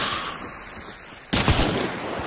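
Burst of gunfire in Counter-Strike during a competitive esports match, a sudden loud volley erupting partway through after a quieter stretch of game ambience.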